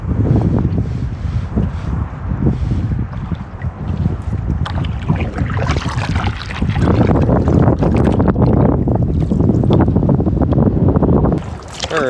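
A small homemade boat named SS Good Times moves across open water, with sloshing and splashing against the hull mixed with heavy gusting wind noise on the microphone throughout.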